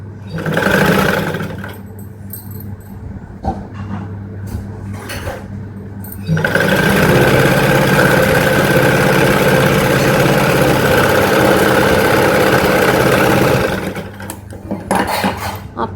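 A sewing machine stitches a lined blouse belt, with short bursts and handling clatter at first, then a loud steady mechanical whir running for several seconds before stopping.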